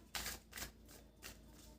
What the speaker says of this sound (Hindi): मैं लाइव शफलिंग करती हूँ